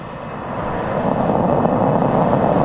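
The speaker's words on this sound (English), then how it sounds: "5, 4, 3, 2, 1, ignition." Falcon 9 rocket engines igniting at a launch carrying the TRACERS mission: a dense, broadband roar that swells steadily and holds loud and continuous, with no voices over it.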